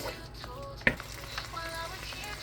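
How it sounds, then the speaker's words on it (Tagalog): Beef and garlic frying in a pan, with a steady soft sizzle throughout and one brief sharp clatter near the start, moderately close and with no talking. "fry lang natin tong beef muna. With the garlic"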